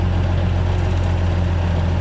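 A John Deere 3140 tractor's heavy diesel engine, which has a hydraulic problem, idles steadily with a deep, even rumble, close and loud, with no change across the moment.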